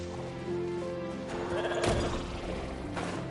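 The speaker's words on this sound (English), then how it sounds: "Goat." A goat in Genshin Impact gives a short bleat over steady game music, a single close cry with a brief crash-like burst in the middle.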